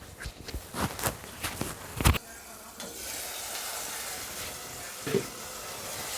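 Spiced masala for banana curry roasts in a covered pan, giving a steady low sizzle and hiss with a few soft clinks and knocks early on, close by and fairly quiet.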